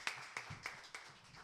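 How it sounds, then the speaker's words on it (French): A few people in a church congregation at a Sunday service clap in slow, separate claps, about five spaced beats with faint murmuring beneath, sparse and moderately near rather than a full ovation. "on peut déjà applaudir si vous voulez maintenant"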